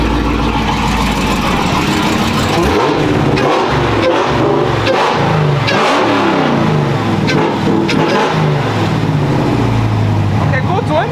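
A Dodge Hellcat widebody's engine heard from outside, loud and close, revving up and down repeatedly with a deep rumbling growl while people talk over it.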